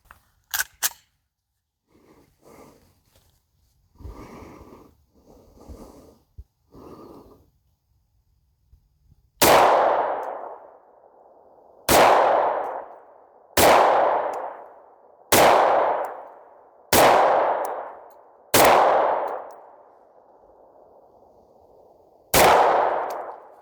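Seven sharp pistol shots from a Springfield Echelon fitted with a Sharps Bros grip module ring out outdoors at a ranch, loud and close, each followed by a short echo, spaced about two seconds apart after some quieter handling sounds.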